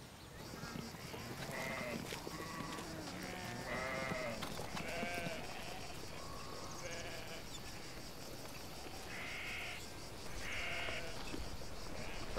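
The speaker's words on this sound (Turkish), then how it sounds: "koyunlara bir bak." Several sheep bleat repeatedly over a steady outdoor background, overlapping calls rising and falling, moderately close.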